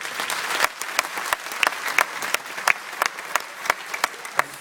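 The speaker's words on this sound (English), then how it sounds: "I'd ask that they be given a round of applause." A small convention audience gives a round of applause, sharp separate hand claps at fairly close range, thinning out into scattered claps without any voices over them.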